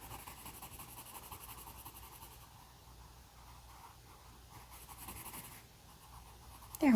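Graphite pencil shading an acorn drawing on paper, a soft continuous scratchy rubbing of strokes layered over a third pass, close and quiet, with a sharper scrape at the very end.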